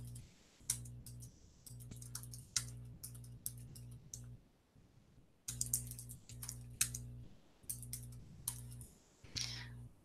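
Computer mouse clicks, including quick double clicks, tap sharply and close over a steady background hum, coming in irregular bursts with short pauses between them.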